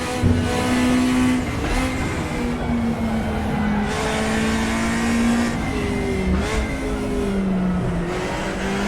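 Race car engine in the RaceRoom sim racing game, driven with a Fanatec Clubsport RS wheel, droning loud and steady through a five-speed box, pitch dipping at shifts and climbing again, no voices.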